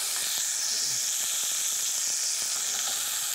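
Veal chops sear in a hot pan, giving a dense, even hiss of sizzling fat that holds steady throughout, close and fairly loud, with faint crackles mixed in.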